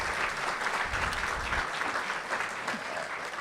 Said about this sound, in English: Go ahead and clap it up for that.